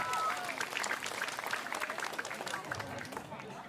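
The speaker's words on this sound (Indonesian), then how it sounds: "Nunas tepuk tangan" An audience at a live comedy show claps in a lively burst of applause, dense and fairly near, fading slightly toward the end with a few voices mixed in.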